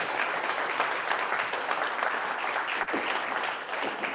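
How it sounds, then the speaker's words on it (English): Kiwanis Club meeting audience giving a round of applause for the speakers, continuous full-room clapping, loud and even, with one brief dip near the end. "A round of applause for all of our speakers."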